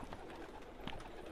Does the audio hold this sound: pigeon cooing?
yes